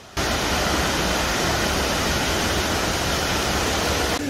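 The Velo de Novia waterfall in Chiapas, Mexico, gives off a steady, loud, close-up roar of falling water that holds unbroken from start to finish, with no voices.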